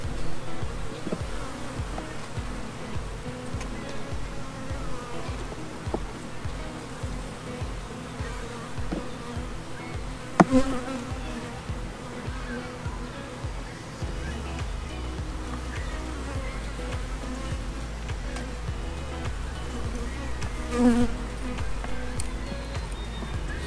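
Honeybees buzz steadily throughout a spring beehive inspection, a dense continuous drone close by, with a couple of brief knocks partway through and no talking.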